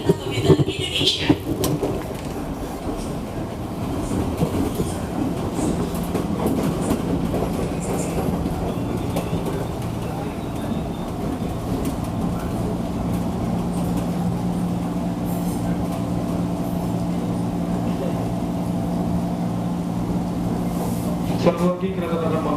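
An Indonesian KRL commuter train runs along the rails near Jakarta Kota Station, giving off a steady rumble with rhythmic clickety-clack, loud and close, and a passenger announcement heard briefly at the start.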